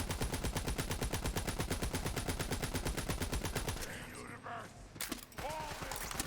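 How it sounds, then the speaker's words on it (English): Rapid automatic gunfire in Borderlands 3, a loud, steady stream of evenly spaced shots for about four seconds, then a pause filled with game effects and a few scattered sounds. "Yeah, we're kind of busy shooting"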